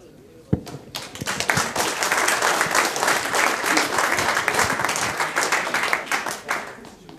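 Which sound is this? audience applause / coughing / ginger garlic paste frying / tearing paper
audience applause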